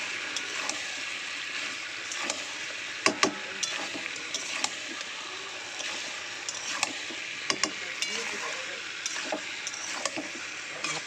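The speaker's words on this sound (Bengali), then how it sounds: "দিয়ে দেবো ভেজে রাখা পটল ও চিংড়ি মাছগুলো, দিয়ে একসঙ্গে মশলার সাথে কষাবো" Fried pointed gourd and prawns are stirred in a pan with onion and spices, producing a steady sizzling hiss broken by scattered scraping clinks of the spatula, close and fairly loud.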